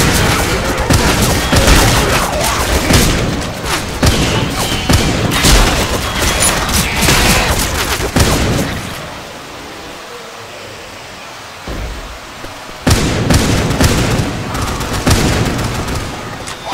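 Loud sustained video-game gunfire aimed at a zombie, a dense continuous barrage that drops off for a few seconds midway and then resumes just as heavily.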